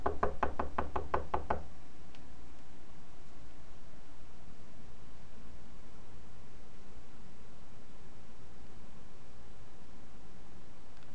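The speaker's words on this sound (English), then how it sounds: "Anna knocks on Mr. Amos' door." Series of about eight quick, firm knocks on a door, close and loud in a steady rhythm, followed by a long stretch of quiet hiss.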